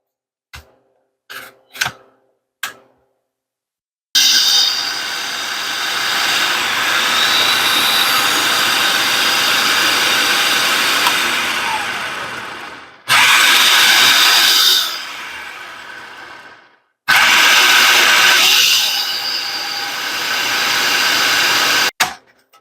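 Freeze-dried tomatoes being ground into powder in an electric grinder, a loud sustained whirring in three long bursts with brief pauses, preceded by a few short clicks.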